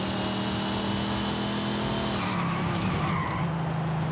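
Supercharged car engine in Forza Horizon 5, the Knight Rider car with a supercharger adding almost 150 horsepower, droning steadily with a sustained harmonic tone that drops in pitch partway through, loud and alone with no voices.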